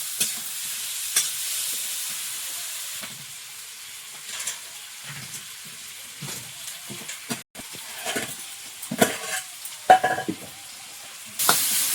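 Green chillies and tomato fry with salt and turmeric in a pan, with a soft steady sizzle broken by repeated scraping stirs of a spoon at an irregular rhythm, close by and without talk.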